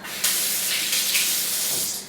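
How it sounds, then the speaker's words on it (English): Cold tap water runs steadily from a kitchen faucet over fingers, a close, continuous hiss and splash that starts abruptly and holds for about two seconds. "I'll actually just put my fingers under some cold water"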